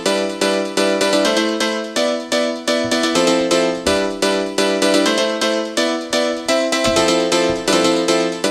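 A layered grand piano patch processed with sync delay, reverb and OTT multiband compression in Ableton plays a steady rhythmic pattern of chords and melody, loud and continuous, with repeated echoing attacks and no talking.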